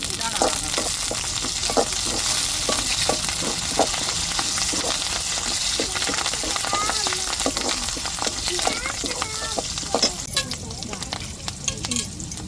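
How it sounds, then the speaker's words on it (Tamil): Curry leaves crackle and sizzle as they fry in hot oil in a pan for a prawn curry, giving a steady dense sizzle broken by sharp pops and stirring scrapes at close range. "இப்போ கருவேப்பிலை சேர்த்துக்கிருவோம்"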